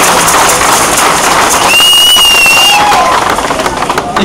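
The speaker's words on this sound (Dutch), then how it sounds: "En misschien verdient hij nog eens een applaus." A crowd at a comedy festival in Houthalen-Helchteren cheers and claps loudly and densely throughout, with a brief whistle riding over the noise partway through.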